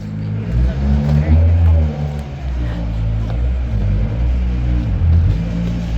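A tuned Nissan 240SX with an SR20DET engine idles steadily after an IAC adjustment, its low, lumpy rumble holding close and loud with small surges in pitch, while people talk over it.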